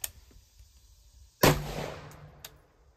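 A short AR-15 rifle with an 11.5-inch barrel fires 55-grain 5.56 ammunition outdoors: one sharp, loud, close shot cracks and decays into a brief echo, with a faint click just before it and a small knock afterward.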